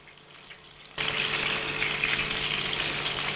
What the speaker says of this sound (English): This is why we don't need to put very much in to actually shallow fry our kebabs